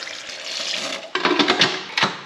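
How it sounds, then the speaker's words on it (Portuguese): Tap water pours into a pressure cooker while doce de leite is being prepared, a steady splashing rush that grows louder and more gurgly in the second half, with a couple of brief surges near the end. "Agora nós vamos completar com água e ligar a nossa panela de pressão."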